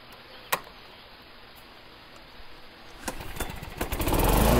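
A lawn mower engine catches after a sharp click and a quiet stretch, then sputters into a running roar that grows steadily louder.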